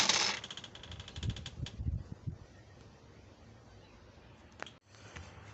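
A Brother HL-2270DW laser printer, just reassembled with a replacement board after a paper-jam fault with all lights flashing, powers on with a brief whir, a few clicks and clunks, then a quieter mechanical hum with a sharp tick near the end.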